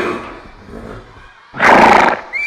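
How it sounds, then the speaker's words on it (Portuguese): A horse's neigh played as a quiz sound in a children's New Year special, a loud burst of whinny lasting about half a second after a stretch of quieter background. "Ela disse um cavalo, ela acertou? Certa resposta!"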